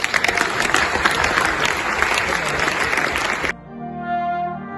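Audience applause after an organ competition piece, dense steady clapping filling the hall for about three and a half seconds before cutting off abruptly into quieter sustained tones.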